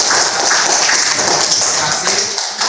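Applause from an audience at a school academic supervision coaching session, a dense, steady wash of many hands clapping at once, loud and continuous throughout with faint voices underneath.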